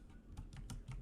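Numbers are tapped on a computer keyboard in a fast run of four or five crisp, close keystrokes over a steady quiet room background.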